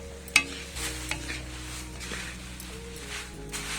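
Flattened rice (aval) being stirred into lentils in a pan, with soft scraping and rustling strokes and a few light clinks, fairly quiet and steady, no voices.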